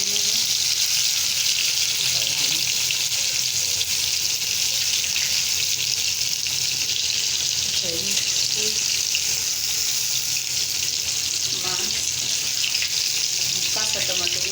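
Green tomatoes fry in a pan, giving a steady, even sizzle and hiss that runs unbroken throughout, with faint kitchen clatter underneath.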